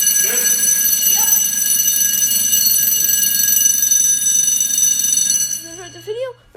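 A commercial fire alarm sounds during a test at the Snow Valley ski resort, a loud continuous electronic tone ringing steadily for about five and a half seconds before cutting off, leaving a brief murmur of voices at the end.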